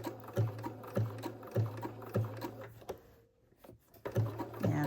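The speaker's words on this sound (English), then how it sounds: "I stop with the needle down at the point, pivot, and now the next stitch I take, the needle is going to swing to the left," A sewing machine stitches applique in short, even bursts of motor hum and needle clatter at close range, pausing briefly midway for a needle-down pivot before resuming.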